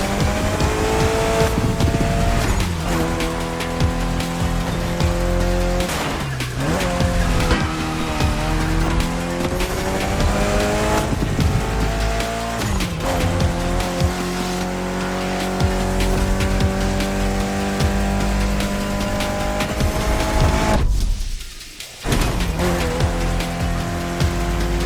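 Race cars in The Crew Motorfest video game roar and rev continuously, with long drawn-out tire squeals and skids repeating through the race and a brief dip in sound near the end.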